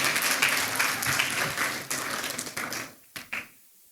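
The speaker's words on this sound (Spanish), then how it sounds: "Un aplauso fuerte al Señor" Applause from a church congregation for the Lord, dense and loud for about three seconds, then dying away into a couple of last scattered claps.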